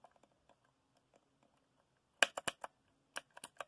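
Crisp, quiet clicking of small buttons on a freshly unboxed gadget, a cluster of several sharp presses followed by a few more after a short pause, over faint background ticks.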